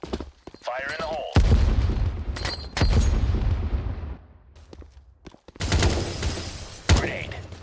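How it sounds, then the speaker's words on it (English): Grenade blast in a competitive tactical shooter match, heavy low booms and crackling gunfire in bursts, with a second loud burst later, under a caster's voice. "Grenade. Fire in the hole."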